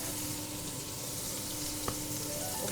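Pork schnitzel in a pan, with a steady loud sizzle and crackle of hot fat throughout, close by, and one brief clink partway through.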